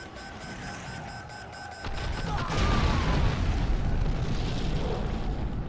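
Artillery fire in a World Series 2019 strategy game match, a muffled boom that swells into a sustained loud rumble lasting several seconds, with tonal game sounds fading beneath it.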